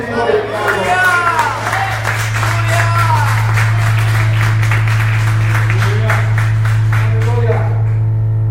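A church congregation applauds in steady, dense clapping that keeps going under a sustained low hum, with voices and sung or spoken calls rising above it throughout.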